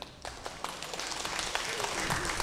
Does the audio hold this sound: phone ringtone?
no